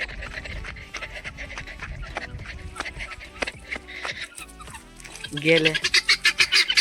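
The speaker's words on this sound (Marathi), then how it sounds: "बघा इथं चालल्या आता गेल्या त्या टर्की कोंबड्या" Turkey hens on a farm give honking, gobbling calls that build into a loud rhythmic burst near the end, with a man's brief speech and other barnyard noise around them.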